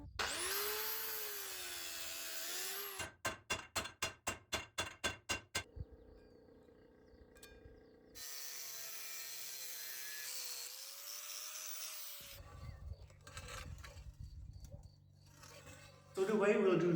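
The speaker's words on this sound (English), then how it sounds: "Now I'll cut the tube that we'll be using and cut notches into it" Metal tube being cut and notched for a DIY tire remover machine, with a rapid series of sharp rhythmic cutting bursts, a steady grinding whine, and a louder surge at the end amid workshop noise.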